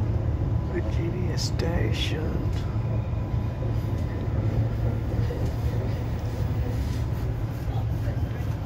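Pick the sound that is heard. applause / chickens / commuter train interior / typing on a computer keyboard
commuter train interior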